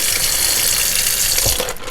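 Cured venison buckboard bacon is washed under a running tap in a sink, giving a continuous loud, close splash and gush of water with brief shifts as the meat moves under the stream.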